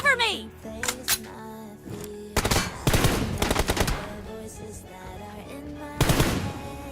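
Bursts of automatic gunfire from a mobile shooter game's team deathmatch, loud rapid volleys around the middle and again near the end, with a voice and game sounds in between.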